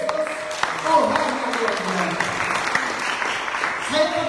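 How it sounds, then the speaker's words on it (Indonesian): A church congregation applauds for Jesus during a sermon, a broad wash of clapping from a gathered crowd with a speaking voice carrying over it. "Maukah sekali lagi tepuk tangan untuk Yesus?"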